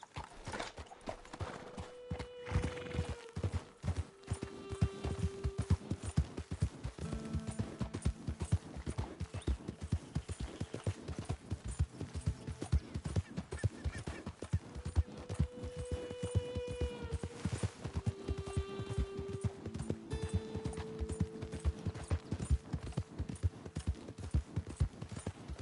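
Horse hooves gallop in the video game Red Dead Redemption 2, a fast, continuous clip-clop rhythm throughout, with a few tonal whinnies and music-like notes layered over it.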